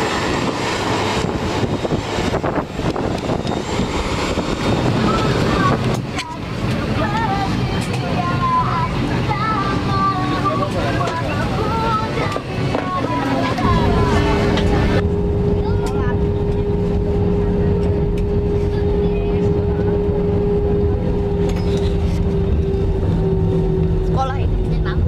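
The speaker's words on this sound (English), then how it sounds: "ready to board the airplane going home to Jakarta." Steady, loud cabin drone of an airliner bound for Jakarta, a broad engine and air hum with a low tonal whine that settles in partway through, with people talking in the background earlier on.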